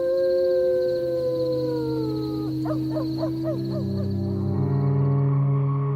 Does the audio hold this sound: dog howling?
yes